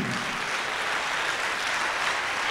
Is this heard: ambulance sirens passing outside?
no